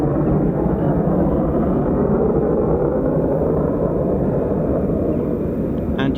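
F-35 Lightning stealth jets spool up their engines, producing a loud, steady, broad roar that stays constant and close throughout with no voices.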